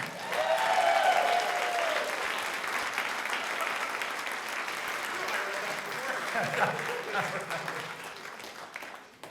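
Audience applause fills a room for a live talk-show event, dense clapping and crowd noise sustained for several seconds before tapering, with a voice speaking over it.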